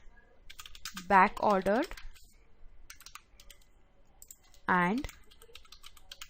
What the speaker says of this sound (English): So let me type it for you.